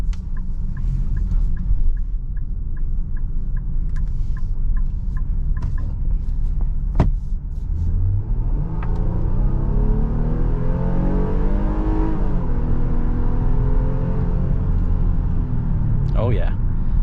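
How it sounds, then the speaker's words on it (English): A 2022 Nissan Pathfinder with a 9-speed automatic, switched into sport mode, accelerates with a steady engine drone that rises in pitch through the gears, heard from inside the cabin under a continuous road rumble. "So let's go ahead and put it in sport."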